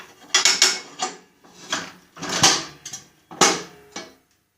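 A metal rod is pulled free from the mower deck of a Snapper rear-engine rider mower, giving a run of close, loud metallic clanks and scrapes in several bursts.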